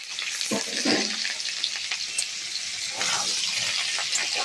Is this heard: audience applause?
no